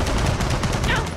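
Turret gunfire in Gears of War 4, a dense, continuous rattle of heavy automatic shots, loud and close, filling the whole short burst with no pauses.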